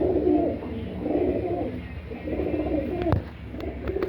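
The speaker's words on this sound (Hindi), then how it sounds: "यहाँ पे जो कबूतर हैं वो ये बिल्कुल डर नहीं रहे हैं और पालतू हैं इसलिए" Tame pigeons coo steadily in soft, rolling phrases that repeat close by. A sharp knock cuts in briefly near the end.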